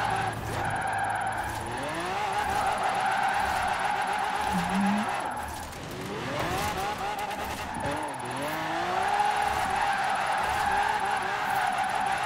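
A car drifting in the racing game Forza Horizon 4 during a winter challenge: a revving engine rises and falls through gear changes while tires squeal in long sliding bursts, close and continuous.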